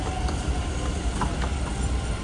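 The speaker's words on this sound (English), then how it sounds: "We're at the train station." Ambient rumble of a train station in Taoyuan, Taiwan, a steady low drone of rail noise with faint clanks, constant and moderately loud.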